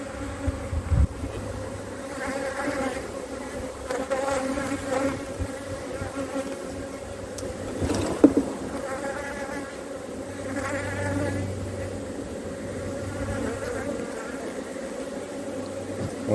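Steady buzzing of many honeybees close by, a continuous drone with faint wingbeat flutter and occasional louder passes.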